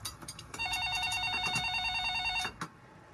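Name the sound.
telephone ringing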